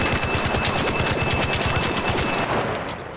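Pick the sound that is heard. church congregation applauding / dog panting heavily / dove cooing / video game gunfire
video game gunfire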